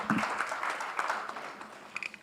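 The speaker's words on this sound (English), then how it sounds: "One round of applause for our humble moderator." Brief applause from a conference audience at a Muslim medical professionals' scientific session in Kenya, scattered claps fairly faint and thinning out over a couple of seconds.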